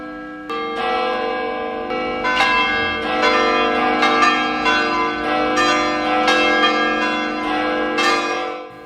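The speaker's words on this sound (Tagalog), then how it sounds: "pinatunog ang kampana ng lahat ng simbahan sa Intramuros" Several church bells of Intramuros, Manila ring together in a loud, overlapping peal, their struck tones repeating irregularly and blending into a rich, sustained clangor.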